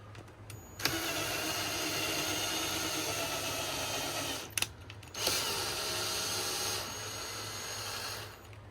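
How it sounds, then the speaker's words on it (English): A power drill whirs loudly in long sustained bursts while drilling screw holes to mount a TV in a caravan, briefly stopping and restarting, then winding down near the end. "So get some drills and let's get drilling."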